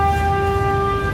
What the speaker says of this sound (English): Traffic here seems a bit chaotic, but it's the land of the horn